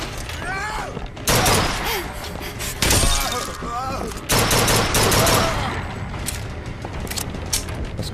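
Gunfire aimed at a turret in Bioshock 2, loud bursts of rapid shots with shattering and mechanical clatter, recurring in waves across the stretch.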